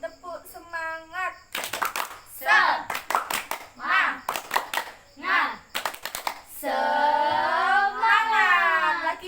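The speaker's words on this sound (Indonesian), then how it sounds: "Ayo, kita tepuk semangat. 1, 2, 3, tepuk." A small counseling group claps together in bursts of quick, sharp hand claps, with a voice and chatter in between and a sustained shout-like chant near the end.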